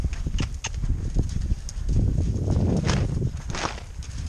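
A horse being worked on a lunge line with a flag and bag, its hooves clip-clopping steadily at a walk, close and fairly loud, with some rustling around the steps.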